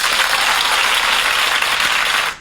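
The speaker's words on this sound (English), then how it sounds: "Give yourselves a big round of applause." Sustained crowd applause from a live talk-show audience, loud and dense, clapping steadily for about two seconds before cutting off abruptly.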